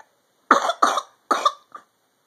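A person coughs three times in quick succession, then gives a small fourth cough, close and clear in an otherwise quiet room.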